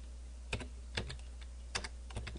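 Someone types on a computer keyboard at a command prompt: four separate, quiet keystrokes clatter at an uneven pace over a low, steady background hum.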